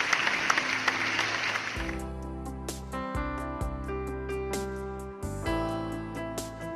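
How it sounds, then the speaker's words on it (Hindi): A Hindi church congregation at a Sunday service claps loudly to welcome a witness, a short burst of clapping that gives way to sustained, layered keyboard-like music. "हम जोरदार ताली बजा के स्वागत करेंगे हमारे गवाह का।"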